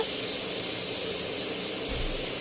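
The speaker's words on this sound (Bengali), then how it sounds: "এখানে জল দিয়ে দিয়েছে আর বেগুনগুলো ফুটছে" Eggplant pieces boil in salted water in a pot for a thin hilsa curry, making a continuous close hiss and bubbling simmer that stays even throughout.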